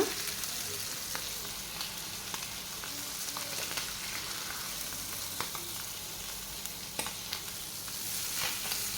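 Dover sole fish fries in a pan, a steady close sizzle with faint crackles and a few light stirring clicks, nobody talking.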